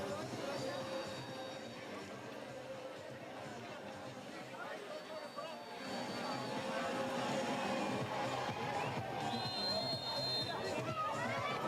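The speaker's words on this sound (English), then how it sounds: "I heard the crowd making some noise there" At the Red Bull Valparaiso Cerro Abajo 2018 urban downhill mountain bike race, a distant crowd cheers and murmurs beneath a commentator's continuous talk. The noise swells louder in the second half.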